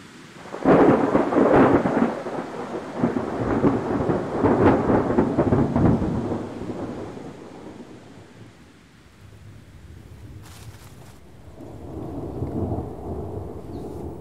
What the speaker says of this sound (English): It's dangerous to be caught in the open during a mountain storm.